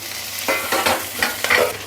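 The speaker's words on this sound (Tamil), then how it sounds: "பூண்டு போட்டுட்டேன் ஒரு மூணு பச்சை மிளகாய் கட் பண்ணி வச்சுருக்கேன் அதையும் சேர்த்துடலாம்" Garlic and green chillies frying in oil in a kadai, a close, steady sizzle broken by several bursts of stirring and scraping, alone without speech.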